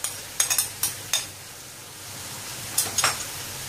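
Keema with yogurt and spices frying in a pan, a faint low sizzle under a few sharp spoon scrapes and clicks against the pan, spaced irregularly across a few seconds.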